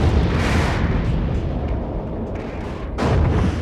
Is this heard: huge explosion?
yes